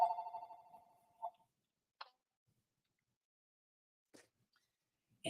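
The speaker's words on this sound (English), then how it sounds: "turn the phone off" A telephone rings at close range in a short, loud burst of bright repeating tones at the very start, then cuts off into near silence broken only by a few faint clicks.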